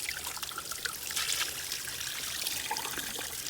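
Cold spring water trickles steadily at an old spring resort site, a close, continuous bright splashing dribble with no voices.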